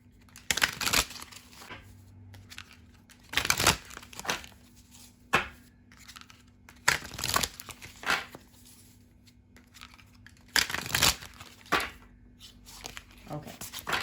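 Tarot deck being shuffled, with repeated bursts of riffling and card-slapping at a close distance, separated by quieter pauses and a faint steady hum.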